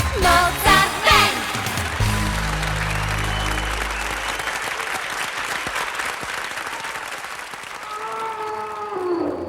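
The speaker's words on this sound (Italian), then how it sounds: "Quanti applausi!" An audience applauds loudly after a small children's music group's performance, dense clapping with a few cheers that swells, holds steady and then fades slightly toward the end.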